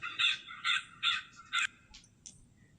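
A black carrion crow caws four times in a harsh, evenly spaced series, followed by two fainter, shorter calls, loud and close over a quiet background.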